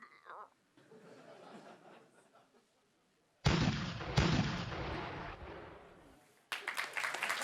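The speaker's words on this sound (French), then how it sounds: "Il faut que je me concentre pour envoyer des boulets de canon." Cannonball-firing sound effects in a live tech-conference demo: two sharp, loud booms fire in quick succession, each trailing into a long rumble, then a third hits after a pause. A quiet murmur of room noise comes before them.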